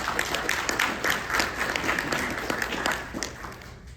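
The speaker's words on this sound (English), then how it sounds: "So give yourselves a round of applause for making this possible for all of us." Audience applause at a speaking event, a steady wash of many hands clapping at close range, holding fairly even for about four seconds and thinning slightly at the end.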